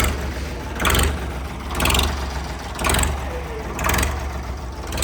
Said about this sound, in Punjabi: ਆਵਾਜ਼ ਚੈੱਕ ਕਰੋ ਬਿਨਾ ਸਲਾਂਸਰ ਦੇ ਕੀ ਕਹਿੰਦੀ ਹੈ ਜੀ